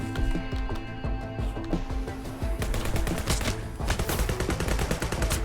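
Shotgun gunfire in a video game, a dense stream of rapid shots and impacts that runs continuously over a busy game soundtrack, with no talk.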